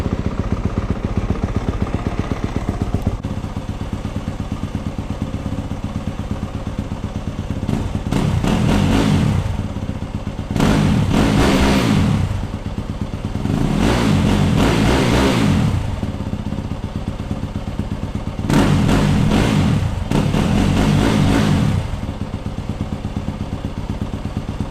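A 2022 Yamaha YZ250FX dirt bike with its stock exhaust idles with a steady clattering rumble, then revs in five separate rising bursts, each swelling loudly before dropping back to idle.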